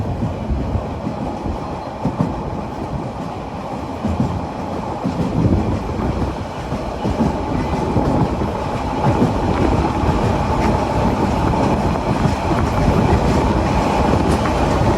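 Probal Express passenger train runs through hills between Cox's Bazar and Chittagong, heard from on board as a continuous loud rumble with steady clickety-clack of wheels over rail joints.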